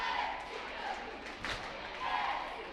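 Crowd at a high school basketball game on a cold Saturday afternoon, a soft murmur of spectators in a gym with a faint cheer swell, beneath a commentator talking.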